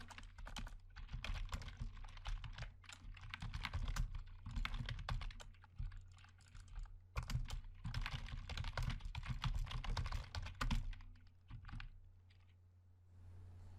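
Python code is typed on a computer keyboard, with rapid clicky keystrokes up close in two long bursts separated by a short pause, then fading to quiet at the end.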